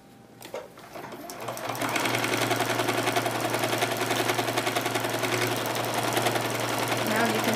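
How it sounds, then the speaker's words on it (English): Sewing machine stitching a quilt-as-you-go book cover: a few soft handling sounds, then the motor ramps up into a fast, steady rhythmic chatter of needle strokes that continues loud and close. A voice can be heard under the machine. "line it back up on your machine, and then finish stitching all the way to the end."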